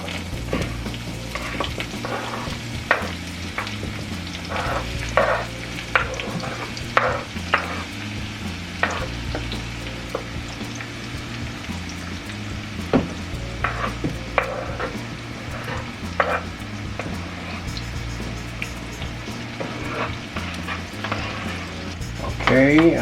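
Garlic, thyme, tomato and bell peppers fry in a pot for ackee and saltfish, sizzling steadily while being stirred, with scrapes and knocks breaking through a constant hiss.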